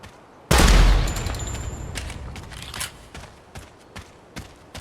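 A 5.56 gun hip-fired in the shooting game Project Silverfish: one loud, close burst of rapid shots with a booming tail, followed by scattered fainter single shots and small clicks.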